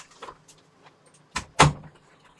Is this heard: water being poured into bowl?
no